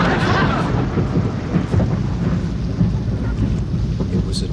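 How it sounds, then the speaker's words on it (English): Steady, heavy rumbling thunder rolls on throughout, with a dense low roar and the hiss of rain beneath it. "they could hear thunder"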